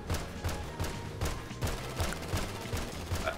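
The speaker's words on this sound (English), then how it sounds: "We are shooting this guy up." Rapid bursts of gunfire at a player in GTA 5, a string of sharp cracks repeating roughly every half second, steady and close with no talk over them.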